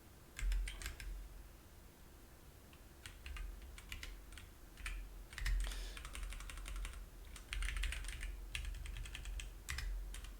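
Rapid bursts of typing on a computer keyboard during a programming session, close and fairly quiet, with clusters of keystrokes separated by brief pauses and no talking.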